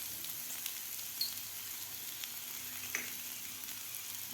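Potatoes and peas with garam masala, red chilli powder and salt stirred in a pan for aloo matar chaat, a faint steady sizzle with a few soft scraping taps, no talking.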